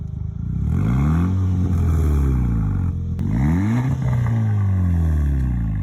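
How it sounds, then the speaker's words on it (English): Skoda Octavia vRS with the 2-litre TDI diesel, a 2000s sleeper, accelerating hard through two gear pulls with a brief dip as it shifts, loud and close with a rising engine note. "a Skoda Octavia VRS TDi, the ultimate sleeper diesel from the 2000s."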